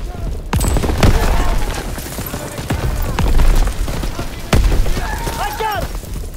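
Grenade blast and rattling gunfire in the Call of Duty: WWII video game, with loud booming impacts and sustained bursts of shots up close while soldiers shout over the fighting.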